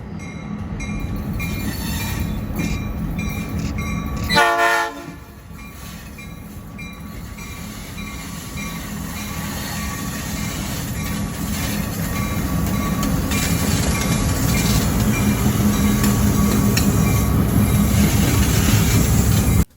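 A train rumbles past nearby with steady rolling wheels and rail clatter, a brief horn-like tone early on, the noise building louder toward the end.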